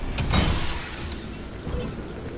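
Glass shatters under an impact hammer in the Pacific Drive video game, a loud crashing burst near the start that trails off into scattered tinkling debris and low rumble.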